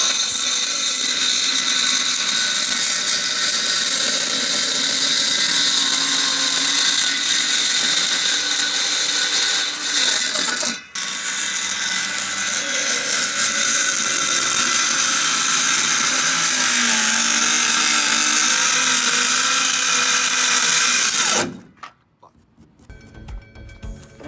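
A power saw cuts a board for flooring in a 1995 Ford Club Wagon van conversion, giving a loud, sustained grinding buzz. One brief break near the middle interrupts it, and it stops abruptly near the end.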